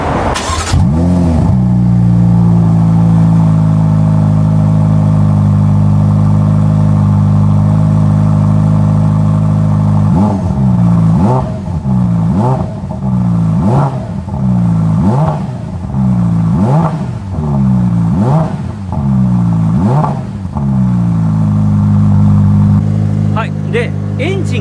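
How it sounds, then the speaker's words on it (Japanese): A Ferrari engine cranks and catches with a loud burst, then settles into a deep, steady idle, punctuated midway by a series of about ten regular throttle blips before easing back to idle. "これを押すとエンジンがかかります。"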